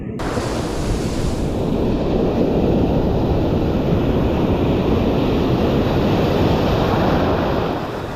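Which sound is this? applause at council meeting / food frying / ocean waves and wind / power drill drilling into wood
ocean waves and wind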